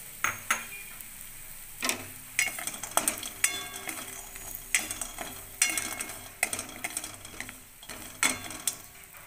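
Bori lentil dumplings fry in hot oil, heard as a soft background sizzle broken by frequent clattering scrapes and knocks of a spatula against the pan.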